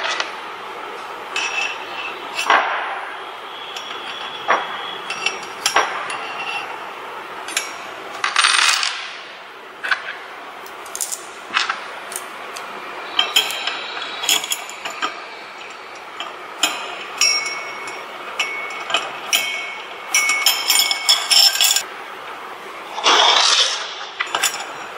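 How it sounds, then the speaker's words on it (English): Aluminium profiles are assembled with a bracket and T-bolts, producing scattered sharp metallic clicks, clinks and taps at close range, irregular and spaced out, with brief handling noises between them and no speech. "You will see the assembly of two aluminium profiles"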